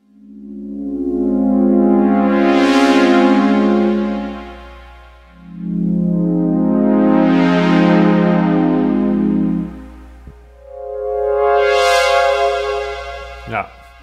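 Lo-fi synth chords run through RC20-style bit crushing, pitch wobble, reverb and noise, three long swelling chords each blooming and fading, loud and alone with a faint hiss bed.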